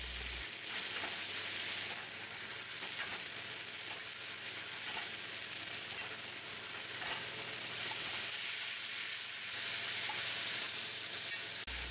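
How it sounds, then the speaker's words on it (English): Steak sizzling loudly and steadily in an iron pan while being basted with butter, a dense continuous crackling hiss close up with no talking. "add butter to the pan and baste the steak with butter for the final 2 times the steak"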